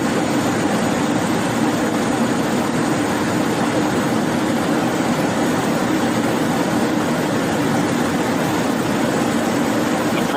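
Inside a Boeing Business Jet cockpit on approach through a rain shower, a loud, unbroken roar of airflow, rain and engines fills the whole stretch without pause, with no one speaking.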